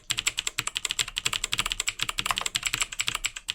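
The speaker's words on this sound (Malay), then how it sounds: "Lepas tu bila hasilnya saya boleh type tanpa tengok keyboard." Fast touch-typing on a computer keyboard without looking at the keys, a rapid, uneven patter of close, crisp key clicks with no talking.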